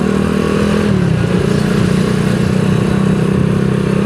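A bore-up Yamaha Vega R motorcycle engine with a slipping clutch runs loud and close, holding a steady, buzzing idle-like rev without pause or talk.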